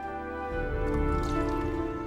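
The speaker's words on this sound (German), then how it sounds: "begießt es mit einer gelben Flüssigkeit aus Lehm, Sand und Wasser" A yellow liquid of clay, sand and water poured onto a package of steel plates wrapped in soaked paper in a sword forge, a soft wet squishing pour swelling after a half-second pause.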